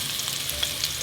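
Onions and spring onions frying in a pan with bacon for callaloo, a soft steady sizzle with a few faint crackles, brief and continuous.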